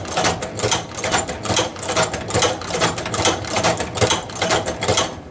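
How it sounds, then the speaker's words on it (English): OUTLAW portable leather sewing machine stitching through leather, a steady rapid mechanical chatter of needle strokes with regular pulsing rhythm, close and loud, running continuously without speech. "we'll continue sewing down the piece"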